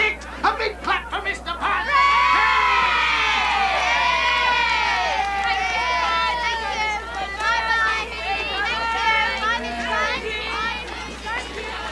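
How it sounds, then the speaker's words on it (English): A crowd, children's shrill voices among it, cheers and shouts for Mr. Punch at a puppet show, a dense, lively hubbub of whoops and excited calls that carries on steadily for about twelve seconds. "A big clap for Mr. Punch"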